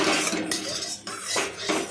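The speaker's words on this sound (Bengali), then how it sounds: "তেলটাকে চারিদিকে ছড়িয়ে নেবেন কড়াইতে" A metal spoon scrapes and clinks around a kadai as a small amount of oil is spread, loud and close, with scraping strokes and brief pauses between them.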